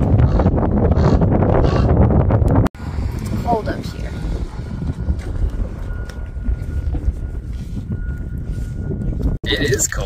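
Cold wind buffeting a high mountainside at Timberline on Mount Hood, Oregon, in mid-July, roaring steadily and close against the microphone for the whole stretch, with brief cutouts near the start and end.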